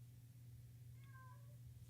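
A house cat meows faintly in a ham radio shack, a few thin wavering calls rising briefly over a steady low electrical hum.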